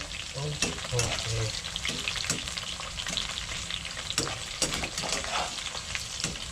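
Insects fry in hot oil with dried chilies tossed in, a dense crackling sizzle broken by scraping stirs and occasional pops, close and continuous, with brief muffled voices in the background.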